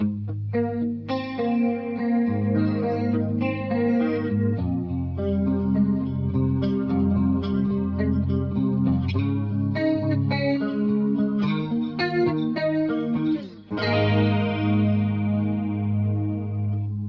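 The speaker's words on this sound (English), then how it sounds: "it's just a really lush, big stereo chorus sound" A lush, shimmering guitar through a Strymon Mobius stereo chorus plays chords and arpeggios continuously, wide and full, with a brief dip before ringing out again.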